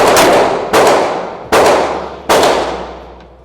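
Four gunshots strike a steel target at a shooting range, each a loud, sharp ringing clang that decays slowly, spaced unevenly about three-quarters of a second apart.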